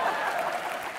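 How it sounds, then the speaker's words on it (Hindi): A brief burst of steady crowd clapping comes from the studio audience of a televised comedy entertainment show, moderately quiet, without voices over it. "अरे क्रिस गेल के लिए जोरदार तालियां"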